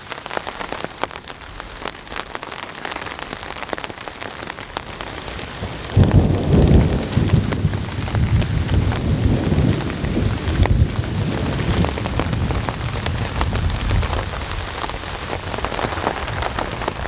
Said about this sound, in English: the storm is officially here, and it's about to freaking rock and roll